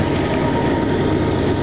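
A train rolls through Granby, Colorado, with a loud, continuous rumble and rattle of rail cars that holds steady for the whole stretch, with no voices.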